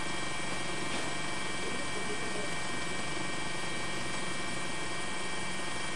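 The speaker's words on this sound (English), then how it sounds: "you're seeing live coverage from our camera crew on a helicopter in Sendai" News helicopter hovering over Sendai during live earthquake and tsunami coverage: a constant, droning rotor and engine hum with a steady tonal whine, unbroken for the whole stretch and free of talk.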